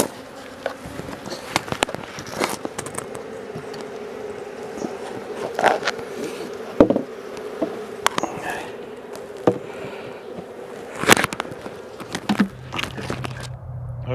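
Honey bees buzzing around a hive due for requeening, a steady close drone with occasional louder passes of individual bees and a few faint knocks and rustles.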